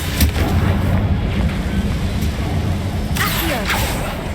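A Confringo blasting spell explodes in modded Hogwarts Legacy gameplay, a loud, continuous rumbling roar with sharper bursts near the start and again past the midpoint.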